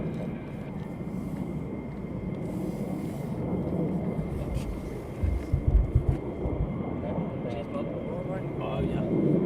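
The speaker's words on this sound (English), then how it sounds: "There you go, taxiing down." Steady engine roar from a military jet, an F-15 or F-35, taxiing at RAF Lakenheath during night flying operations, heard at a distance as a continuous hum with a few brief rumbling bumps midway.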